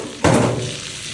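Butter drops into a frying pan over sautéed onion and garlic with a soft thud, then a bright sizzle flares up and settles into a steady hiss.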